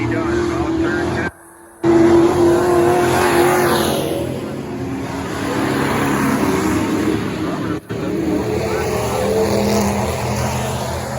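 Pro trucks race at Crystal Motor Speedway, engines droning loudly and steadily as they pass, with a brief cut in the sound early on and an announcer talking over the engine noise.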